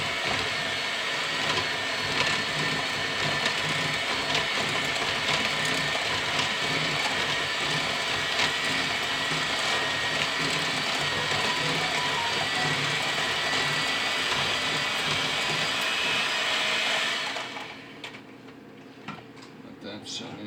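An electric mixer whirs steadily through cheesecake batter for a tropical blueberry pineapple coconut cake, a loud continuous motor hum that cuts off abruptly, leaving a quiet room.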